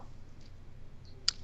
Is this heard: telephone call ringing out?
no